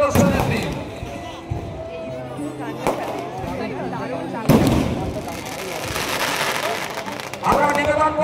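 Fireworks display at Arambagh Jagaddhatri Puja, with several sharp bangs and crackling bursts at irregular intervals, moderately close, over a continuous bed of crowd noise and a voice speaking.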